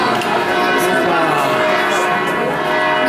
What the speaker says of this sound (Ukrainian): Чути дзвони?